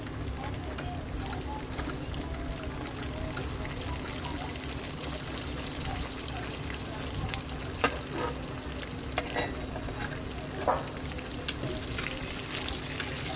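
Chicken frying in a pan with green chillies and capsicum for malai chicken, a steady close sizzle with occasional stirring scrapes, running continuously under a faint background hum.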